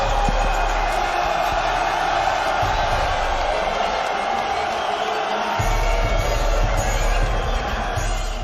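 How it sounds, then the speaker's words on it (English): A packed arena crowd at a cage fight in Brussels roars continuously and loudly, a dense sustained wall of cheering and shouting after a dramatic moment, with faint voices mixed into the din. "listen to this crowd in Brussels."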